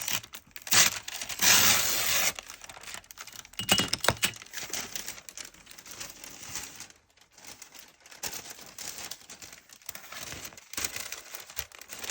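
Scissors cutting through a sheet of pattern paper for ephemera crafting, close crisp snips and papery crinkling, loudest early on and then quieter intermittent rustles.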